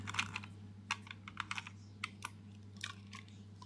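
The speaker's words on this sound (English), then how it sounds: "it's just a case of popping batteries inside so I can test it" Small plastic clicks and rattles as batteries are pushed into the compartment of an Aiwa HS-PX477 Walkman cassette player, a run of light, close, irregular taps over a steady low hum.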